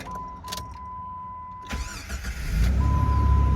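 A previously cheap flipped car fires back up on the first try: a brief cranking burst, then the engine catches and settles into a loud, steady idle close by.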